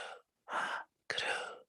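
Three deep breaths with soft breathy noise, each lasting a fraction of a second and separated by short silences, taken close up during a slow breathing exercise. No one speaks.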